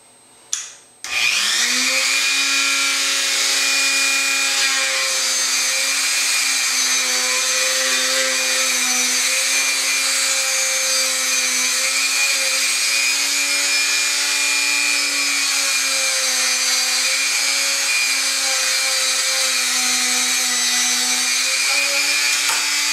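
A rotary tool fitted with a disc-shaped Kratex rubber abrasive bit polishes a straight razor at low speed, giving a steady, close, unbroken high whine that starts abruptly and runs on alone.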